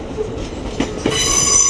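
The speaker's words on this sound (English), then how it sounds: "Arriving now is a dual pair of Hull Trains Paragons, working service from London King's Cross through to Hull." Two coupled Hull Trains Paragon Class 802 units run into Doncaster station on the East Coast Main Line, a loud, close rumble with wheel noise and a rising high squeal from the brakes.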